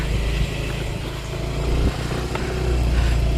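A car being driven on a quiet residential road, heard as a steady, fairly loud low engine and road rumble that swells slightly toward the end, with no talk over it.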